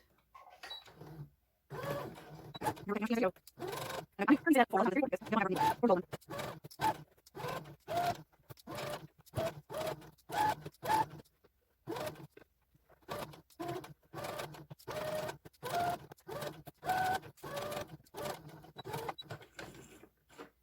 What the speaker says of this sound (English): I'm going to sew all the way around with a 1/4 inch seam